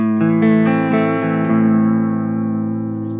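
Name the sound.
guitar through sine wave modulation effect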